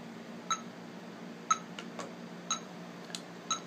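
A metronome set to 60 beats per minute ticks four times in steady one-second intervals, each click short, bright and fairly soft against a quiet background hum.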